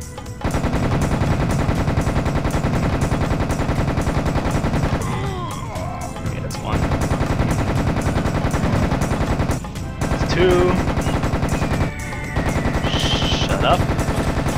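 Rapid, continuous automatic gunfire rattles in the video game Serious Sam Second Encounter, loud and sustained with a few brief pauses.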